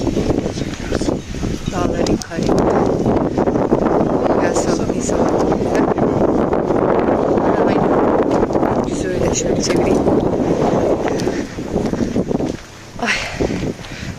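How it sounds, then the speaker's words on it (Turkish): Strong wind gusting outdoors on a sunny but cold day, a steady loud roar buffeting the microphone throughout, with people talking over it. "Evet bayağı esiyor."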